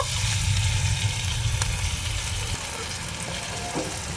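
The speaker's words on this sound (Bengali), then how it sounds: "পেঁয়াজটা অনেকটাই ভাজা ভাজা হয়ে গেছে" Even, close sizzle of onions and tomatoes frying in a pan, with a low rumble early on and occasional faint scrapes, no voices.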